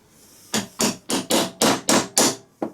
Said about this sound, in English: using that same drive that I used to remove the bearing, we will now gently tap the bearing in